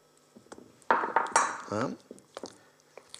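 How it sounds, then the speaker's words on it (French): A spatula works room-temperature butter in a bowl for a Roquefort butter, giving a few sharp clinks and scrapes against the bowl close by, with a brief voice-like sound in the middle. "Il suffit de mélanger avec une spatule le beurre pour le rendre un peu plus pommade"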